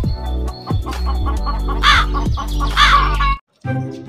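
A cartoon crow caws loudly and hoarsely several times in a rhythmic series, near and prominent, over a busy animated soundtrack that briefly cuts to silence before resuming.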